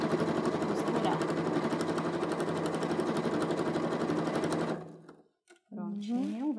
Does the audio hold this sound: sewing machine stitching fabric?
yes